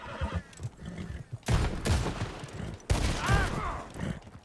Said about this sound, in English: I'm going to go ahead and shoot this horse, though.